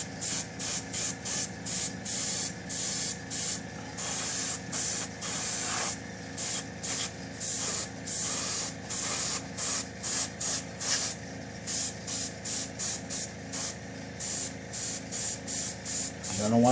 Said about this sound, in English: And I'm just lightly spraying a few coats.